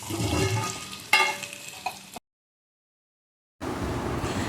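Food fries in a pan with a steady, close crackling hiss and a few sharp pops, breaking off into brief silence before the sizzle resumes; no one speaks.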